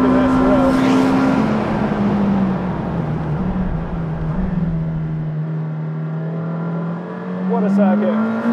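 McLaren Senna engine on track at the Estoril circuit, a steady loud drone holding pitch with a slight dip and rise as the car laps, continuous throughout, with a brief quieter passage near the end.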